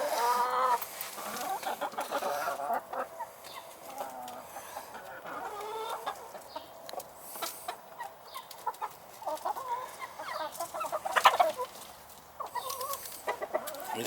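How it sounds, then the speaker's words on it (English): Backyard rooster and a flock of chickens clucking steadily and close by, with overlapping bursts of clucks rising and falling, plus one louder squawk near the end. "He's a good rooster."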